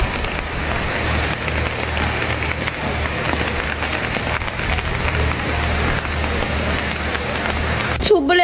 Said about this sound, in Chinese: 外面还在下着大雨